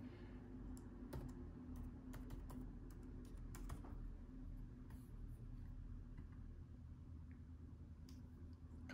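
A password is typed on a MacBook keyboard: soft, faint, irregular key clicks in quick clusters over a low steady hum, with no talk.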